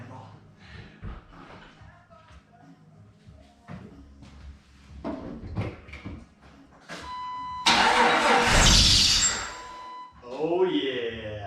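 A Jeep TJ that has sat unused cranks and fires up loudly after a few clicks and shuffling sounds, its engine roaring briefly up close, with people talking before and after.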